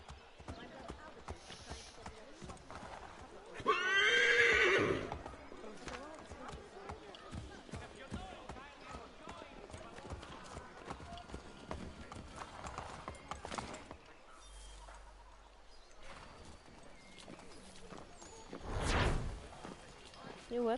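Horse hooves clip-clop steadily through a busy in-game soundscape from Assassin's Creed 3 Remastered, with louder bursts and ambient noise layered over the rhythmic footfalls; no clear whinny stands out.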